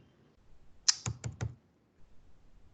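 A computer keyboard clicks out a short burst of four quick keystrokes while coordinates are entered and Enter is pressed in AutoCAD, close and crisp in an otherwise quiet room.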